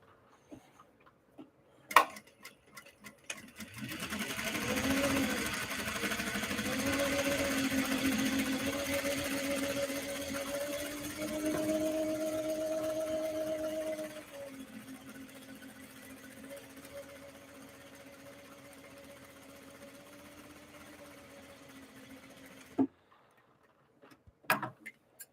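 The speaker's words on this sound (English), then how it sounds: "I will not be talking while I'm actually sewing." A sewing machine stitches bags in steady bursts, its needle tapping in a fast mechanical rhythm with a humming motor, louder at first, then softer until it stops; a few clicks sound before and after.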